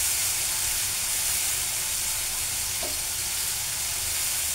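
Fish and potatoes cooking in a pan, giving a loud, continuous close sizzle and hiss that holds steady from start to finish with no talking.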